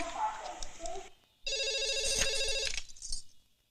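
Telephone ringing in a tense Telugu movie scene, a bright repeating electronic ring lasting over a second, with dialogue just before it and a short tone after.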